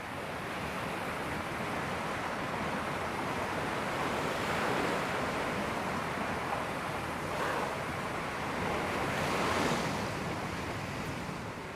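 Ocean surf in the video game Jurassic World Evolution 2 on the island of Malta, a steady broadband wash of rolling waves with gentle swells, continuous and without talking.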